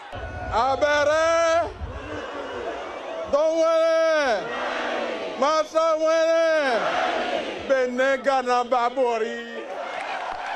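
An excited crowd at a political rally chants and cheers in repeated loud bursts of many voices shouting together, with short pauses between each swell.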